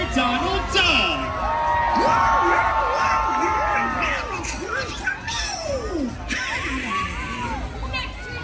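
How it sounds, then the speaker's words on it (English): Aboard a Disney cruise ship on pirate night, a lively crowd cheers for Pirate Donald Duck with whoops and shouts from adults and children, loud and continuous, with voices and a quacking character voice heard over it. "Please give a big Buccaneer cheer for Pirate Donald Duck!"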